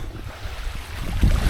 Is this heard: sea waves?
yes